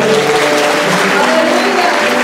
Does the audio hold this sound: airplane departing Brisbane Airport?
no